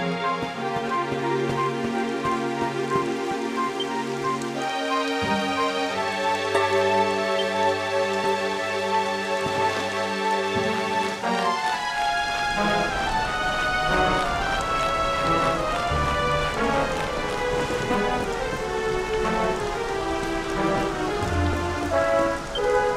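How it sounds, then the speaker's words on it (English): Rain falls in the Dragon Quest XI game world as a steady, even hiss beneath melodic music, continuing unbroken for over twenty seconds with no voices. "It would have to go and start raining, wouldn't it?"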